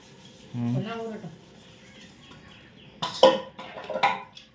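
Dishes being washed in a kitchen sink: a soft rubbing scrub and a brief low vocal sound early on, then sharper clinks and clatters of crockery in short bursts toward the end.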